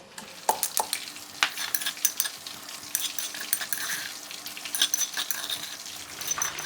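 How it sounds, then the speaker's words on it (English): Chili pounded in a mortar for a sweet and sour crispy whole seabass, a close series of sharp irregular knocking and clinking strikes over a quiet background, with no talking. "So I'm just going to pound it only."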